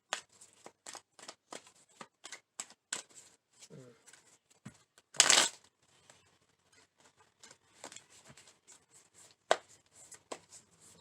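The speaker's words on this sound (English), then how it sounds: "Felt the need to shuffle again." Cards being shuffled in a series of quick riffles and soft slaps, with brief pauses between bursts and one louder flurry partway through.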